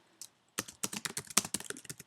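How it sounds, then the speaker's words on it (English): Rapid typing on a computer keyboard, with a dense run of close, crisp key clicks that follows a brief pause after a few isolated taps. "this is where you're going to do all your typing"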